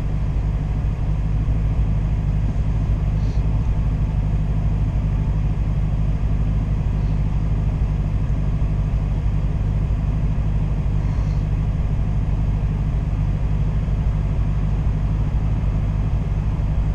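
A Dodge Hellcat fitted with a new intake rumbles steadily, a deep continuous low drone that stays even and unbroken from start to finish.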